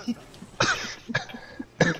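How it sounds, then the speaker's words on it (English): A person coughs three times in short, sharp bursts spaced about half a second apart, close to the microphone, with faint breathing between them. "no, I'm just coughing"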